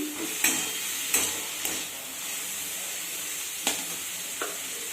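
Salted vegetables being stirred in a hot pan for noodles, with a steady frying sizzle and a few sharp utensil scrapes against the pan, close and alone.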